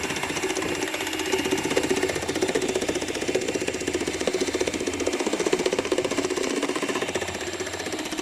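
Electric hand mixer whipping cream at its top speed, a steady loud motor whine with a rattling buzz that holds evenly throughout, no talking.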